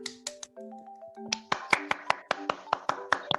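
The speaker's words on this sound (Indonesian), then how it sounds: "Beri tepuk tangannya anak-anak." A classroom of children claps hands in a third-grade lesson, a series of sharp, separate claps in a quick rhythm following some brief tonal, chime-like notes at the start.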